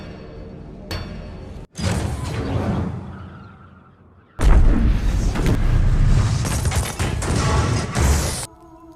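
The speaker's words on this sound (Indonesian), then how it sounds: "tentara Jerman akhirnya menjatuhkan bom sebesar 2 ton ke benteng itu" Two-ton bomb exploding on the Brest fortress, a film effect: a rumbling boom fades over a few seconds, then a second, louder blast with crashing debris roars on before cutting off abruptly.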